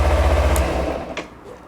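A Bajaj Pulsar motorcycle's idling engine thrums close by, then cuts out abruptly when the kill switch is used, leaving near silence with a faint click.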